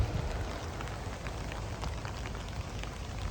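Rain falls steadily on a beach along an Olle trail in Jeju, a dense, even patter and hiss with scattered closer drops ticking through it, no voices present.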